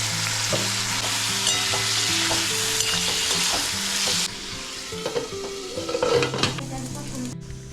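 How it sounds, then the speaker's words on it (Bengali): Potatoes frying in oil in a pan, a loud close sizzle with steady crackling while a utensil stirs and scrapes, a background hum cutting out midway and clinks of cookware near the end. "আলু দেবো বলে আলুটা ভাজা হচ্ছে"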